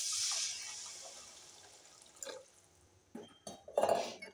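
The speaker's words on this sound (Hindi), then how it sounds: "अब इसमें हम डालेंगे पानी।" Water is poured into a pan of matar paneer with peas, giving a hissing splash at the start, then quiet, then a few short liquid splashes and sizzles near the end, close and moderately faint.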